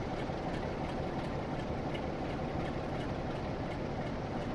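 A train idles in Train Sim World 2 at Stalybridge Station, a steady low engine rumble with a broad hiss, constant and unchanging, with no talk.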